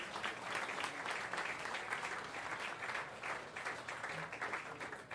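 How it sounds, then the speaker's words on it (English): Audience applause for the server and bartender staff at a late-set jazz piano concert, steady dense clapping from a crowd that holds evenly throughout. "let's give a great round of applause for this wonderful server and bartender staff we have here."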